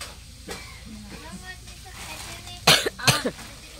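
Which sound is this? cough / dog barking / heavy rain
cough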